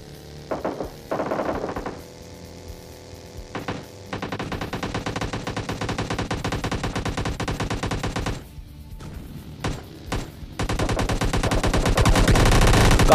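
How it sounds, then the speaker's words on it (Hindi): Rapid automatic gunfire and scattered single shots from a stadium in the mobile game PUBG Mobile Lite, loud and dense, with steady bursts that build toward the end and no talk. "स्टेडियम से जरा गन शॉट्स की आवाज़ सुनो आप लोग"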